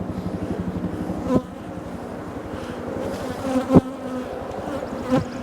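Honeybees buzz steadily around hives in a dense, droning hum, a few bees passing close with louder swells.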